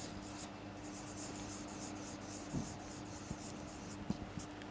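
A pen writes out an answer on paper, a close, faint, continuous scratching of short strokes with a few small taps, and no one speaking.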